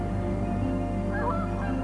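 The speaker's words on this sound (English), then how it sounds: "Waterfowl are one of the most migratory birds." Waterfowl honk faintly over a steady low hum, with a few brief nasal calls in the second half.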